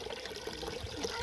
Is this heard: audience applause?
no